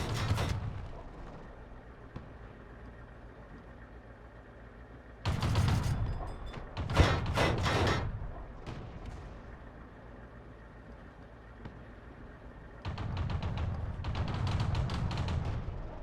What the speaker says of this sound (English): 2 Panzer IIJs firing APCR at each other.